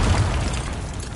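A Confringo blasting spell goes off in the video game Hogwarts Legacy, a loud, dense burst of roaring noise that fills the whole moment with no talking.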